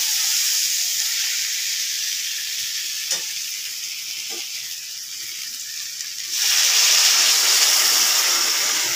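Potato and pointed gourd curry sizzles steadily in a pan, and the hiss grows louder and brighter as water is poured in, with a couple of faint utensil knocks.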